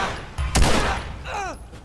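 A Glock-style 9mm handgun in The Last of Us on PlayStation 4 fires a sharp shot, followed by a brief ringing tail as the gunfire fades.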